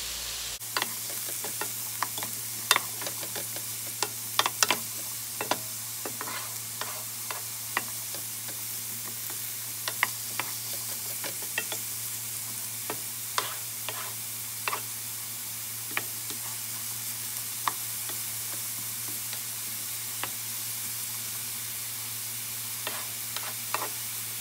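Zucchini frying in oil in a pan, a steady bright sizzle with scattered small pops and ticks throughout, fairly quiet and continuous with no voices.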